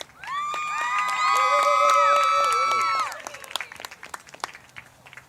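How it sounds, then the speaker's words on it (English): A crowd at a college women's soccer match cheers and whistles loudly for the players and their parents, with a sustained swell of shouting voices over dense clapping that fades into scattered applause. "Parents can come out and we can give them a round of applause"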